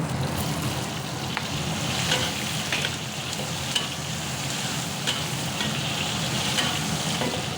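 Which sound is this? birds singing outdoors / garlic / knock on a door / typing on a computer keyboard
garlic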